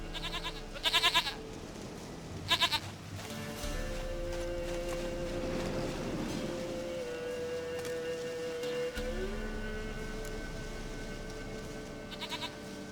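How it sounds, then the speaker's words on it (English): A goat in The Witcher 3 bleats in short, loud bursts, two near the start and another at the end, over a steady game soundtrack and a droning ambient backdrop. "Goat of mine, dearest, sweetest goat."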